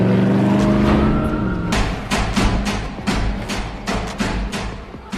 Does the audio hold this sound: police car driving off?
yes